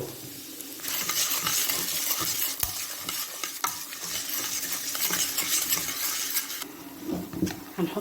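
Vermicelli being stirred in hot oil in a pot for Egyptian koshari, a continuous bright sizzle with frequent metallic scrapes and clinks of a spoon against the pan, close and fairly quiet, no talking.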